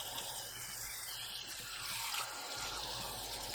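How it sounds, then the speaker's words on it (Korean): Spring cabbage (bomdong) is washed in running water at a kitchen sink, with a steady close splashing and trickling stream for a few seconds. "흙이나 이물질이 없도록 깨끗하게 씻어주세요."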